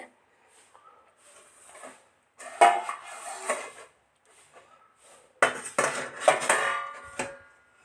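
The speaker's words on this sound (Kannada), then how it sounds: "ಇವಾಗ ಎರಡು ಪ್ಲೇಟನ್ನು ನಾನು ಇಡ್ಲಿ ಪಾತ್ರೆಗೆ ಹಾಕಿದ್ದೀನಿ" Metal plates of rice roti being set into an idli steamer vessel, two separate bursts of loud clanking and scraping metal against metal with quiet handling noises between them.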